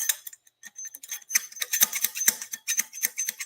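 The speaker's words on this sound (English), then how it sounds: "this bushing hitting that bushing inside the fork tube" Repeated dull clunks from a loose bushing knocking inside a motorcycle fork tube, irregular knocks and rattles at close range with no talk.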